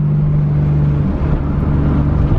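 A new engine in a Toyota Supra, in third gear, holds a steady loud drone at about 3,000 RPM while the car runs at constant speed. It sounds near and continuous, with no talking.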